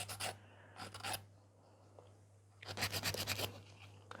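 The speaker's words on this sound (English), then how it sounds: "File the free edge." Filing the free edge of a gel nail extension on a sculpted French square nail, heard as close, rasping strokes in three bursts separated by quieter pauses, with a steady low hum underneath.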